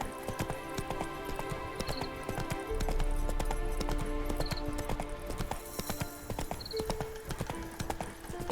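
Roach, Geralt's horse in The Witcher 3, gallops with a rapid clip-clop of hooves under a game music score, with brief short tones and a rumbling stretch in the middle.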